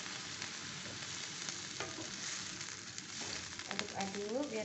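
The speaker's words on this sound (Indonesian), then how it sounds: "Aduk-aduk biar terasinya tercampur." A spoon stirs besengek in a pan after water is added to mix in the shrimp paste, a soft continuous sizzling and scraping close by, with a faint voice near the end.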